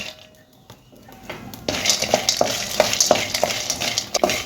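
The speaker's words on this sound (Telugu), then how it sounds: "ఇప్పుడు ఈ వడియాలు ఉన్నాయి కదా, కొంచెం వేపుకుందాము" Black gram vadiyalu fry in hot oil with a steady sizzle, while a spoon stirs them and taps the pan in a repeated rhythm, close and fairly loud.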